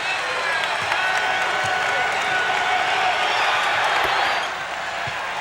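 A basketball arena crowd cheers and applauds in a dense, sustained wash of noise during a 1989 Orlando Magic versus Detroit Pistons game. The roar stays loud and even, then eases slightly near the end.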